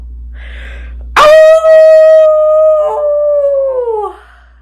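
A person imitates a wolf with a big, powerful voice howl: one long sustained tone that starts abruptly, holds steady and slides downward at the end, loud and close, with brief faint voice sounds before it.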